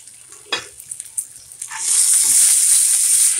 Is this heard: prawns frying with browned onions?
yes